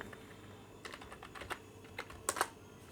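Typing on a computer keyboard, entering a search term into Google while setting up Bandicam screen-recording software on a PC; a scatter of quiet, irregular key clicks that cluster into quicker bursts toward the end, with no voices.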